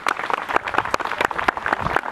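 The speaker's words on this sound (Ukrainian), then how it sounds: "Ваші оплески, будь ласка." An outdoor audience at a Chopin music festival claps steadily, a dense, even patter of many hands with no voices over it.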